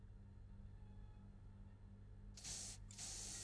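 Spray can hissing in the multiplayer horror video game Anomaly Exit: two loud bursts, the second after a brief gap, cutting through a low steady game hum.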